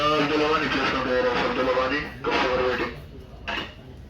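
Metal and non-stick pots and pans clink and clatter as they are handled on a shop shelf, close and fairly loud, with a sharper knock near the end.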